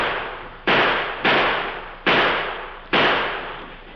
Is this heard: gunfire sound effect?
yes